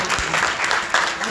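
Audience applause at an Arya Samaj gathering in Noida welcoming a donor, a short burst of steady clapping filling the hall, with a voice faintly over it.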